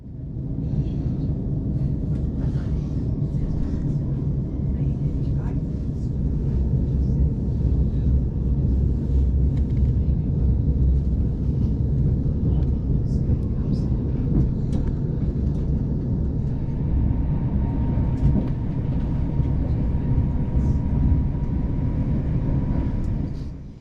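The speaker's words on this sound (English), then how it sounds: "we'll be stopped for a few minutes while the train divides" Southern train standing at Horsham station while it divides, a steady low rumble and idling hum from inside the carriage with faint clanks and scattered small noises, no voices.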